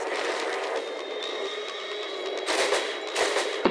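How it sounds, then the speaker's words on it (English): Rapid gunfire in the video game Borderlands, aimed at a large flying creature, forms a dense, continuous rattle of shots with louder bursts near the end, with no talking. "And I'm just kind of shooting at him at this point."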